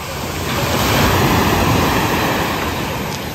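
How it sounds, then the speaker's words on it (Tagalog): Strong ocean waves at high tide roar continuously, a steady loud wash of surf with no voices. "Ang lakas ng alon."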